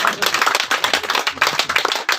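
An audience claps at a Hindi-speaking public gathering. Dense, uneven clapping runs steadily for about two seconds and stays fairly close and lively.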